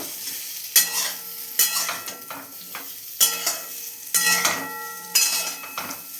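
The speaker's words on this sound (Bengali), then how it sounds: "আমগুলোকে একটু নাড়াচাড়া করে নেব, একটু ভাজা ভাজার মতো করে নেব।" Mango pieces in hot oil in a wok, fried with a dried red chilli, are stirred in repeated scraping strokes about once a second over a steady sizzle, close and clear without speech.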